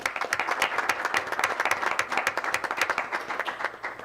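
A school board meeting audience applauds teachers being recognized. The loud, continuous clapping is dense throughout, with a few sharper individual claps standing out.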